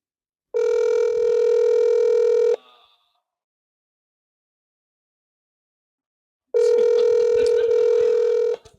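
A telephone ringback tone on speakerphone sounds in two loud, steady bursts of about two seconds each, separated by a long silence, with no voices over it.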